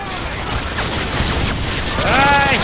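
Dense gunfire fills a Call of Duty Modern Warfare 2 firefight at a street intersection, a loud continuous rattle of overlapping shots and blasts, with a voice speaking over it near the end.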